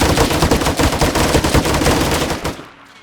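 Rapid automatic gunfire in Arma 3 during a zombie infestation near Pripyat, a dense, loud burst of fast regular shots that cuts off near the end and leaves a brief fading tail.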